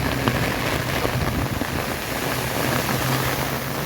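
Heavy rain pours in a dense, constant roar, pushed along by strong wind, near and loud with no voices.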